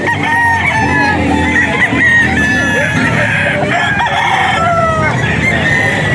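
Roosters crow loudly and repeatedly over a dense, noisy background of clucking fowl and outdoor bustle at a gamefowl market in Bocaue, Philippines.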